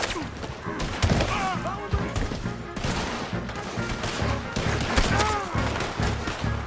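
Gunfire in Red Dead Redemption 2, close rapid shots and volleys cracking in quick succession amid shouting voices and chaotic background noise.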